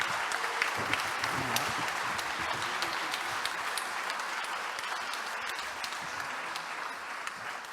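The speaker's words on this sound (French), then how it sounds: "Je pense qu'on peut les applaudir." An audience at a Lyon city partners' evening applauds children who serve as young elected district councillors, giving steady, dense clapping that holds at an even level throughout, moderately close, with no talk over it.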